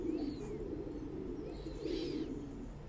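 Pigeons on a farm coo in low, steady murmurs that fill the scene, with a few brief higher chirps mixed in, continuous and close without any talking.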